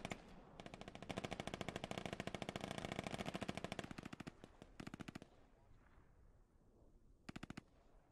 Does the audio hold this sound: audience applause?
no